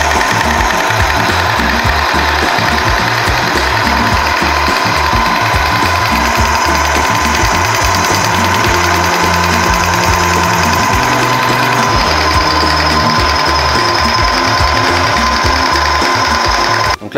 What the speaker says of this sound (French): la pompe tournait à vide comme ça vient de faire à l'instant